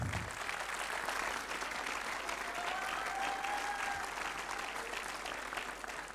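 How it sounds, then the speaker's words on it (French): Sustained, loud applause from an audience at a film school graduation ceremony, a thick steady wash of many hands clapping with a faint whistle-like tone gliding through the middle. "Vous pouvez encore les applaudir."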